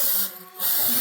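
A short hissing burst of adhesive spray is applied onto a cap to prepare it for embroidery, loud and close, with a brief dip in the middle before the spray resumes.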